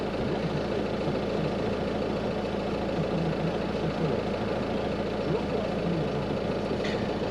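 The engine of an Auto Trail Tribute T670 motorhome idles in a steady, low, even rumble that stays unchanged throughout, close and moderately loud with no voices.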